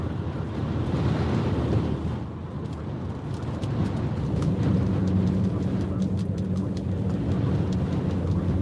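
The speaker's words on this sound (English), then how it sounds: "Yeah, the wind is picking up." Strong hurricane wind roars continuously at Hurricane Isaias landfall near Wilmington, North Carolina, buffeting the microphone with a loud, steady, gusting rush that swells and eases throughout.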